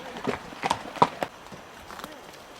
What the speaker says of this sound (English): See, she's a little chestnut quarter horse here.